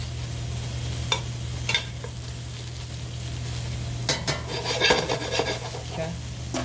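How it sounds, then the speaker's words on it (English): Vegetables for ratatouille stirred as they fry lightly in a pan: a steady low sizzle with scattered scrapes and rasping stirs, which grow busier toward the end. "So just at this point, give yourself a good stir."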